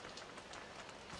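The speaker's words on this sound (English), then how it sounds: "Still raining." Rain falls steadily on a farm on a wet day, a soft, constant hiss of drops hitting surfaces, faint and even with no voices.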